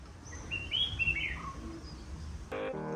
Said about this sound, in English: I'm listening to the sound of the birds here.